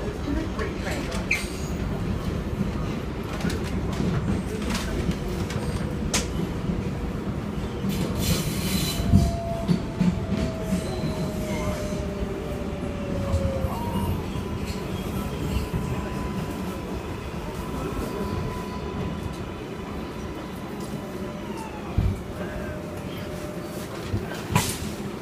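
NYC subway R62 and R142A trains on the IRT Eastern Parkway line at Crown Heights–Utica Avenue rumble loudly and steadily, with clattering wheels, squealing metal, and a station announcement voice heard at moments.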